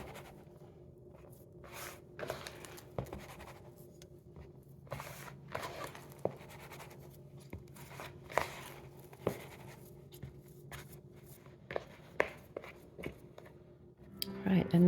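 Sourdough dough stretched and folded by hand, soft sticky squelches and rustles repeating in an irregular rhythm close up, with quiet talk at times.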